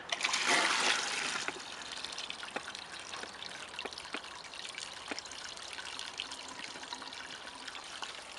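Water drains from a storage tote black soldier fly composter after a blockage is cleared, a louder gushing trickle at first that settles into steady dribbling with scattered drips.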